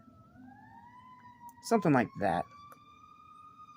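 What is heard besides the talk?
sirens outside the door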